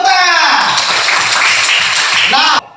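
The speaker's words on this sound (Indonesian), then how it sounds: "Tepuk tangan." Students in a classroom give a short burst of dense clapping, loud and close, that stops abruptly after a couple of seconds. A voice can be heard at the start.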